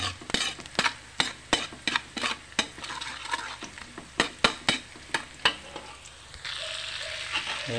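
Spatula scrapes and stirs Java rice with margarine and garlic in a pan, a steady run of sharp, close strokes over a low sizzle that thins to a quiet hiss at the end.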